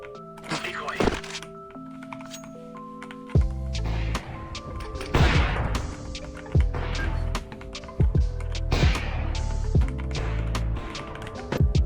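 Decoy grenade in Counter-Strike imitating gunfire: a series of sharp, loud bangs in irregular bursts roughly every one to two seconds, ringing over a steady tonal musical bed.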